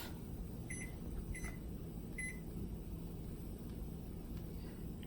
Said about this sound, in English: I'm just going to heat it up in the microwave.